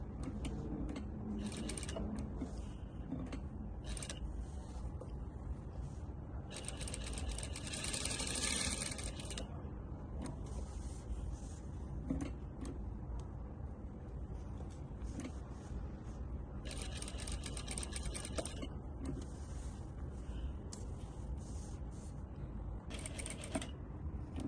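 Juki industrial sewing machine stitching steadily through a corner, with bursts of fast mechanical clatter separated by brief pauses as the knee lifter raises the presser foot; close and continuous, with no talking.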